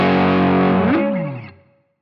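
A short electric guitar riff is played with distortion and effects, using hammer-ons and pull-offs without a capo. It is a single loud phrase that rings out and fades in under two seconds.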